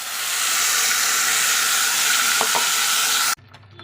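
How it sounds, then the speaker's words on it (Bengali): Onion paste hits hot oil that already holds bay leaves, setting off a loud, continuous hissing sizzle with a couple of light utensil taps before it cuts off abruptly near the end. "আর এখন দিচ্ছি এই যে পেঁয়াজ পেস্ট"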